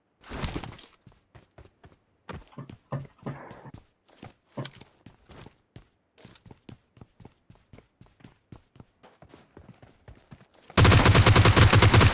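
G36C rifle fire in PUBG Mobile on the Vikendi map, sharp, close gunshots in short bursts and single shots spread across the clip, ending in a sudden loud, continuous blast of noise.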